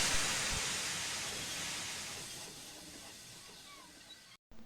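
A steam locomotive hisses steadily and loudly as its crew tries to raise steam, a broad continuous rush that slowly fades before a brief cutoff, with no talk.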